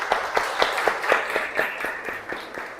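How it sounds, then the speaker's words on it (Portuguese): Audience applause at a church gathering, a moderate group clapping in a loose, even rhythm at mid distance, gradually softening toward the end. "Uma salva de palmas para todos."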